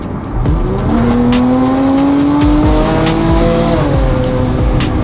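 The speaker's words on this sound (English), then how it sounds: "After the light, hit the kickdown button." A supercar's engine revs hard and pulls away after kickdown, a loud, close rising engine roar with shifting pitch and a brief tire squeal, no voices.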